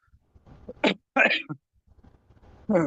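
A single sharp sneeze bursts out between quiet murmurs of nearby speech, close to the listener.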